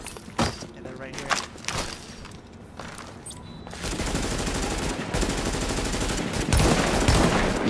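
Rapid automatic gunfire from a multiplayer shooter video game fires in loud sustained bursts, with a player talking excitedly over the shots early on.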